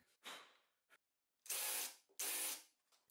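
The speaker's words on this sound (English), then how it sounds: "I'm going to use a dowel jig to achieve a plumb hole" A power drill bores a plumb hole through a dowel jig into a table leg for leveling feet. It sounds as short whirring bursts: a brief first run, then two longer, loud spins close by.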